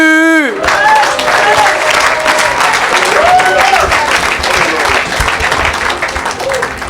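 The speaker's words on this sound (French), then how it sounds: "Est-ce qu'on peut acclamer pour la parole?" A church congregation applauds and cheers at length after a French-language sermon, with sustained dense clapping and excited voices that follow a brief sung or called-out note at the very start.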